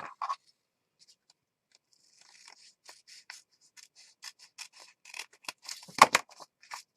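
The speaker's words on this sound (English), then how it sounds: "I should be able to cut this." Scissors snipping through paper while crafting Christmas junk journals, a quiet pause followed by a run of short, crisp cuts that grow denser and louder toward the end, with one sharp snap near the finish.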